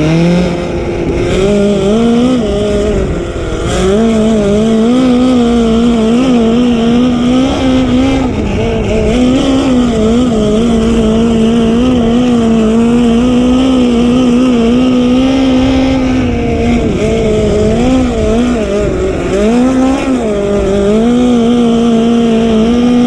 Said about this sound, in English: Let's take a hot lap with Jesse.